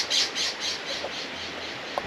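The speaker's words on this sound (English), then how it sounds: "they're both scrub jays" Scrub jays give a series of harsh, rasping squawks in quick succession, fairly close and clear above a steady outdoor hiss.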